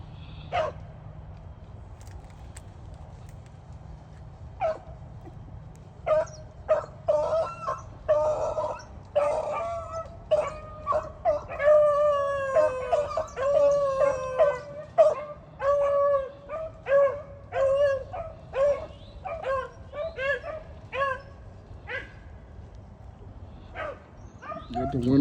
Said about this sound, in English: Got the old dogs out,